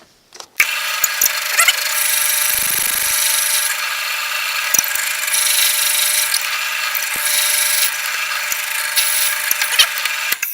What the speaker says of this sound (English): Now I will finish drilling this all the way through.